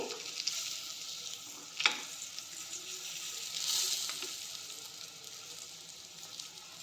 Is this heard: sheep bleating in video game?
no